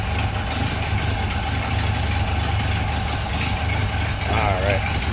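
A 1929 Ford Model A Roadster with rumbleseat idles smoothly and steadily nearby, a low even engine rumble with a faint rattle near the end.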